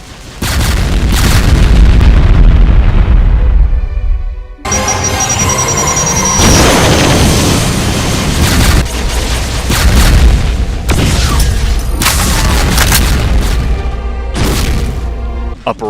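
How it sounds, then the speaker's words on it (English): Barrage of BFG 10K shots amid a chaotic clash with Cyberdemons in a Doom mod, a dense run of loud booming blasts and bursts that pound almost continuously, with a short break before the barrage resumes. "A barrage of round BFG shots."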